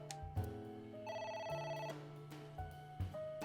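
A telephone rings in a detective video game, a repeated electronic trill in short bursts with brief pauses between them, clear and upfront over a low steady background tone, with no talk.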